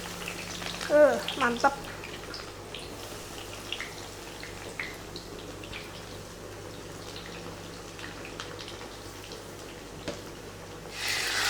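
Eggplant frying in hot oil, a soft continuous sizzle at moderate volume, with a brief louder burst early on and a spoken word partway through.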